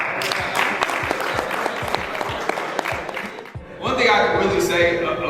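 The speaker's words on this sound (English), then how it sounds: "good round of applause for that" Clapping from an audience at a motivational talk on financial literacy and entrepreneurship, crisp and sustained before giving way to a speaker's voice near the end.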